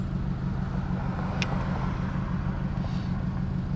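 A Shoebox Ford car driving through Duluth, heard as a steady low engine and road rumble from inside the cabin, with a brief high click partway through.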